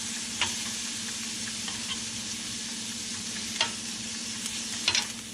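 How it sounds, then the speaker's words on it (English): Steak and vegetables for a Philly cheesesteak sizzle steadily on a hot cooking plate while a spatula mixes them, giving a few brief scraping clicks over the constant hiss. No one speaks. "mix it up, and we can let this cook for just a little bit longer."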